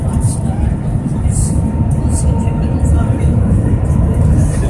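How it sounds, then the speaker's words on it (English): A loud, steady rushing rumble fills the inside of the Shanghai maglev train travelling at about 275 mph between Shanghai and Pudong Airport, with a low drone and occasional higher whooshes throughout. "this is the Maglev train."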